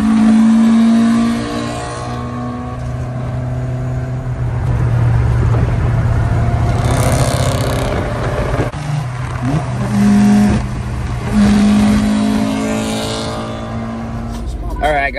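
Toyota AE86 driving on the road toward a canyon, its engine droning steadily from inside the cabin and rising and falling as it revs and shifts, loud and close, with people talking over it.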